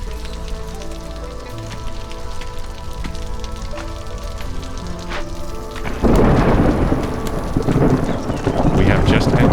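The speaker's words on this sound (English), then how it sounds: "It's telling us with the thunder that the storm is coming." Rolling thunder builds into a heavy storm surge in the Against the Storm settlement game, starting with a low rumble under layered music and background talk, then swelling loud and noisy from about the midpoint onward.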